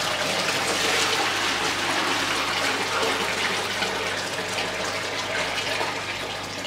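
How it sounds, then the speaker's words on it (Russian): Water gushes steadily and loudly from a 30-litre barrel into a bucket, a continuous rushing pour that holds for several seconds without pause. "Сейчас я перелью воду в ведро"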